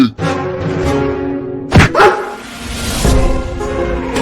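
A dog barks and whimpers in short bursts, fairly close and loud, with a steady musical tone running underneath, in a cartoon.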